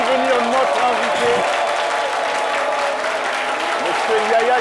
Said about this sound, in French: Monsieur Yaya Cissé, fort applaudi par les conducteurs de l'entreprise Cissé et partenaires et nos amis étudiants